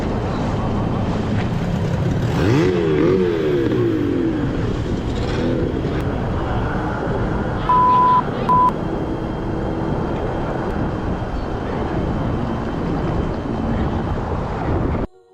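Several boats roar past a fishing spot on a creek, engines loud and continuous with heavy wind buffeting the microphone, the noise staying strong throughout before cutting off at the end.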